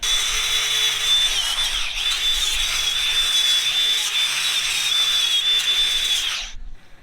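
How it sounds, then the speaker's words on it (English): Angle grinder fitted with a wire wheel cleaning concrete off threads, a steady high whine and scratching held for several seconds before cutting off abruptly. "Go grab the wire wheel and the grinder."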